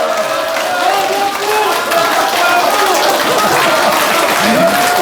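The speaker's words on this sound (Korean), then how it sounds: "여러분, 다시 한번 박수 부탁합니다." A packed lecture hall of about a thousand people in Daejeon breaks into steady, dense applause that holds for the full stretch, with voices talking over the clapping.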